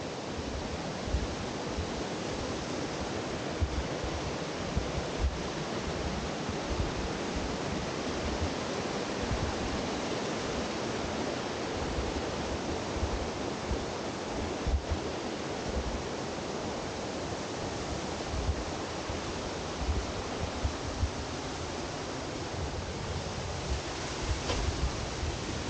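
A mountain stream rushes hard between large boulders beside a hiking route in the Shirasawa valley near Gakidake, a loud, continuous close roar of water with no voices.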